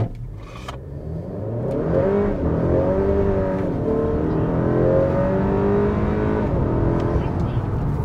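A tuned 10th-generation (2018–2022) car running an ethanol stage 4 tune launches and accelerates in a speed run, its engine droning loudly and climbing steadily in pitch after a brief quieter start.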